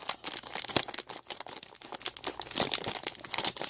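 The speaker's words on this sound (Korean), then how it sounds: "먼저 이 끝에 부분을 잘라주세요" A milk carton's end being cut open, with close crinkling and crackling of the package and brief tearing bursts, alone without talk.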